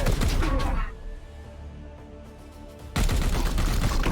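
Gunfire in the Chaos Gate: Daemonhunters video game, loud dense bursts at the start and again at the end, with a quieter ringing lull between.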